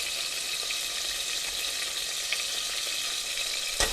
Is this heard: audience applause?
no